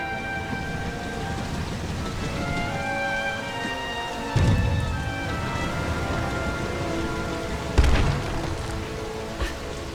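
A rainstorm with thunder in the video game Lara Croft and the Temple of Osiris: steady rain hisses throughout, broken by two sharp, loud thunder cracks with deep rumbles.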